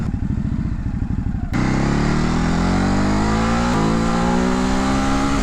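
A 2019 Ducati Hypermotard 950 motorcycle accelerating hard in second gear, its engine note climbing steadily in a loud, close, continuous rasping roar after the throttle snaps open, with a brief dip partway through as the pull continues, no speech.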